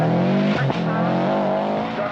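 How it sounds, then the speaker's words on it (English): A Subaru Impreza rally car at the 1995 Burmah Rally, its engine misfiring badly, drones past loud and close with a rough, uneven tone and a brief stumble in the note. "Misfiring very badly, as we can hear it heading towards the Golf Club"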